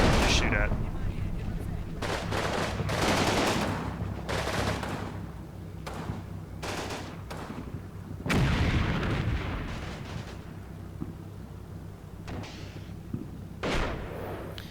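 Gunfire and explosions in a WWII strategy video game, with repeated bursts of shots and heavy blasts, including a large explosion midway, spread over a continuous battle rumble.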